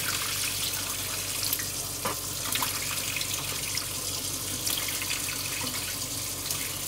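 Water poured from a pot while rinsing lamb shanks for soup, a steady splashing rush close by that runs without a break, with no voices.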